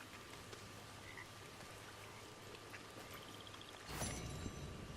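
Bullfrogs croak faintly in a video game against a steady background hiss like rain, and a louder burst of noise rises near the end.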